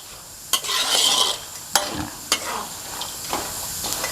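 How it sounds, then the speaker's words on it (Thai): Pork cracklings fry in plenty of hot oil for chili paste, with a steady sizzle under repeated close scraping stir strokes and the occasional clink of a utensil against the pan. "กากหมูของเรามาเรื่อยๆก็จะเริ่มแข็งแล้วนะครับ ความรู้สึกของเราเวลาเรา ที่เราเจียวเขาจะชนกันนะครับ"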